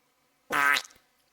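A cartoonish fart sound effect in a children's audiobook about time travel: one loud, buzzy, wet blast lasting about half a second with a quick sputtering tail, standing alone between stretches of narration.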